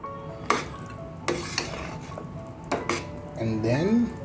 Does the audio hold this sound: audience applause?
no